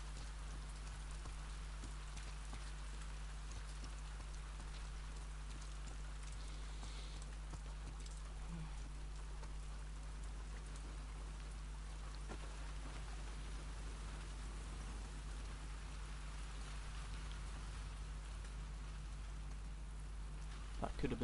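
Steady rainfall in The Last of Us Part 2, a soft continuous wash of drops with a low hum beneath, constant and moderately distant throughout, with a brief louder rustle at the very end.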